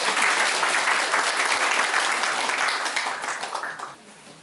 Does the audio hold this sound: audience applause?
yes